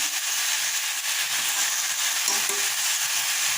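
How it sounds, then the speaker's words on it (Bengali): Eggplant frying and being stirred in a pan for a mixed vegetable dish, giving a steady, close, even sizzle with soft scraping, continuous throughout without talk. "খুব দেখো বেগুনটা দিয়ে দিলাম"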